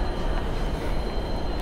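PKP Intercity Parsęta passenger train running, a continuous loud rumble of wheels and carriage noise with a faint high whine, steady throughout and cutting off abruptly at the end.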